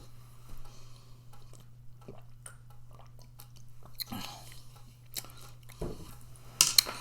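Thick, crunchy beef taco shells being chewed up close, with soft, quiet crunches and bites spaced irregularly against a low background hum.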